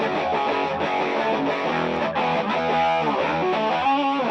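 A heavily distorted electric guitar plays a dense, sustained riff with a thick, saturated buzzing tone, loud and steady throughout.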